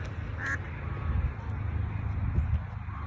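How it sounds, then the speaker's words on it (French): Ducklings from a family of ducks quack faintly in the open air over low background rumble, with a short high call near the start and scattered soft quacks after. "Des petits canetons."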